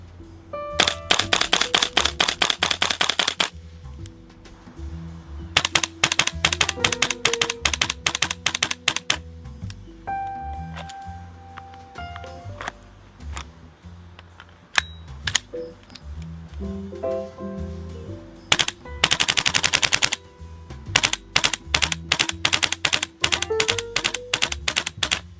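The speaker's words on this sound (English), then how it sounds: "Perfect chance to test out the cold weather performance of these two rifles." A GHK M4 and a VFC HK416A5 gas blowback airsoft rifle fire outdoors in cold, snowy weather, with rapid bursts of sharp mechanical clacks and single shots separated by quieter pauses.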